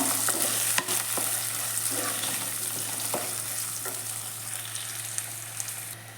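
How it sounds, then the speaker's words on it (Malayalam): Small shallots sauté in hot oil in a pan for a Kerala-style sardine curry with kudampuli, sizzling steadily up close while a spoon scrapes and stirs in occasional knocks. "ഈ ചെറിയ ഉള്ളി നമുക്ക് നന്നായി ഒന്ന് വഴറ്റിയെടുക്കാം"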